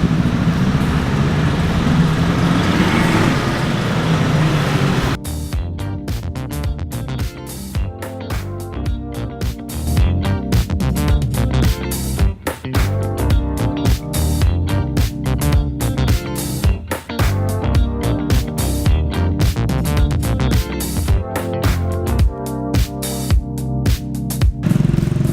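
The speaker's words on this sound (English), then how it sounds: "This, by the way, is not a backdrop, it's a truck." A truck engine idles loudly and steadily close by in a Bangkok street, with a dense rumbling mechanical drone filling the whole stretch alongside general traffic noise.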